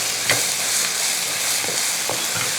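Cauliflower curry with cashews and chopped coriander sizzles in a pan while a spoon mixes it in a few distinct scraping strokes over a constant frying hiss.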